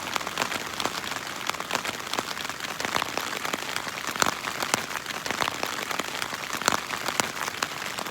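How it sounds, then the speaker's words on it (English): Steady rain patters at night in the Alaskan wilderness, a dense crackle of close drops striking a nearby surface throughout, with no voices. "Starting to rain."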